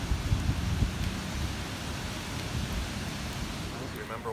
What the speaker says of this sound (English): All done, and it's raining.